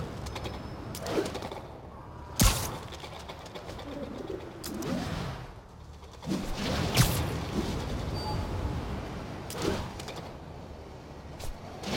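Pigeons cooing in Marvel's Spider-Man Remastered, soft repeated coos close by amid ambient city hum, punctuated by a few sharp clacks and flutter-like bursts spaced across the scene.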